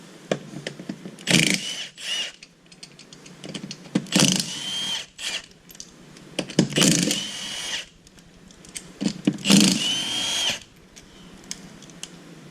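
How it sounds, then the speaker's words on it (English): A half-inch Milwaukee impact wrench fitted with a 19mm socket, used on a Honda Pioneer 1000 wheel spacer install, fires in four loud, close bursts of rapid hammering, with quieter pauses between them. "So got the 1/2 inch Milwaukee impact, 19mm socket."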